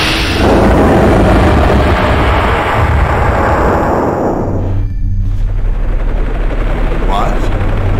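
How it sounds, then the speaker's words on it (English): A helicopter in the PlayStation game Resident Evil: Survivor roars loud and steady with dense rotor chop, then drops to a lower sustained drone partway through. "Helicopter?"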